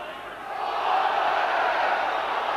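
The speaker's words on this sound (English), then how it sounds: "This Widnes crowd down below is crying for everything" A Widnes rugby league crowd at a 2009 playoff against Whitehaven, a broad roar of shouting that swells after the first half-second and holds steady, heard from a distance with no single voice standing out.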